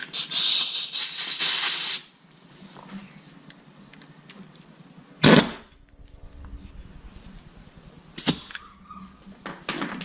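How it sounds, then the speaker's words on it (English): An impact wrench works on the clutch of a 125cc pitbike, with a loud hissing burst at the start, then sharp mechanical bursts and clanks amid quieter handling noise. "we're going to grab our handy dandy impact wrench"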